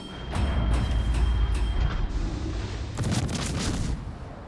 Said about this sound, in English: there's the armor-piercing shells go by